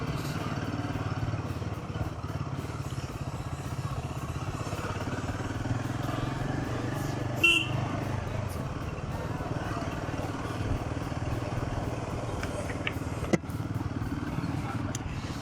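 A Royal Enfield Himalayan adventure motorcycle rides along a road, its steady engine drone running throughout with a couple of brief clatters, while the rider talks over it.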